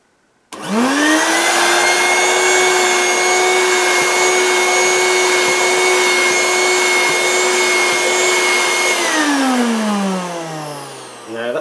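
A 1980s Moulinex Handivac hand-held vacuum cleaner with its nozzle attached starts abruptly and holds a loud, steady whine for about ten seconds. It then spins down as it is switched off.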